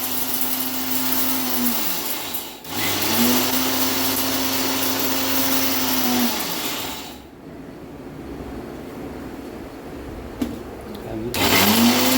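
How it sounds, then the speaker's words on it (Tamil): A mixer grinder runs in pulses, coarsely grinding ingredients for wedding-style idli sambar: two close, loud motor runs with a stop between, a quiet pause, then the motor whirs up again. "மிக்சியில் போட்டு நைஸாக அரைக்கக்கூடாது, கொஞ்சம் குறப்பாக அரைச்சி"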